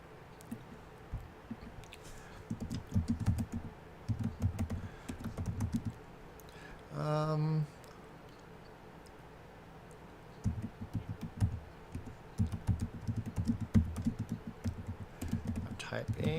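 Computer keyboard keys clatter in fast, uneven bursts of typing during a Fallout 4 stream. A gap near the middle carries a short tonal beep-like tone, and the typing resumes afterwards.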